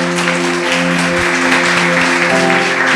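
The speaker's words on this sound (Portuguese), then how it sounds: "Louve a Deus com suas palmas" Church congregation clapping together in praise during a worship service, a loud steady wash of applause over sustained organ or keyboard chords throughout.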